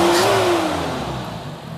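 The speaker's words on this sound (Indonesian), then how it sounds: "dari suara mesin lebih stabil kembali dan halus" A Toyota Kijang 5K engine idling after carburetor service, a steady, smooth hum with a faint whine that drifts slightly in pitch, heard close and on its own with no talking.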